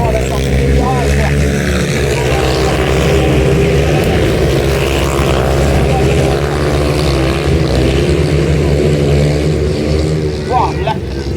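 Grass track motorcycles racing at Saint Macaire, solo and sidecar classes, on a difficult track: a loud, continuous engine drone throughout, running steadily under the voice of a race commentator.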